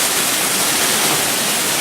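Foundation liquor pours into a brewery mash tun at Sharp's Brewery to cover the false-bottom plates before mashing a black IPA, a loud, close, steady hiss and rush of running water with no break.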